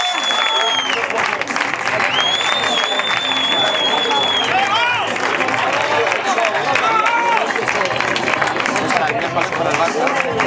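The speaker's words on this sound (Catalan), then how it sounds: "Un fort aplaudiment." A crowd applauds a race finisher at a popular aquathlon prize ceremony in Blanes, with dense, continuous clapping that carries a few whistles and cheers, and voices mixed in.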